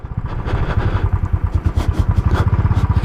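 A Royal Enfield Classic 500 single-cylinder engine thumps close by in a rapid, even rhythm of loud low pulses with some mechanical clatter above, running alone for a few seconds.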